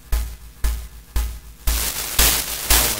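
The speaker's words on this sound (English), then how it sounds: "I'm compressing just the white noise part of it." Broadband white noise run through a compressor in Ableton, sounding as six rhythmic hissing bursts, each swelling in and pumping down before the next, growing louder and brighter toward the end with no talking.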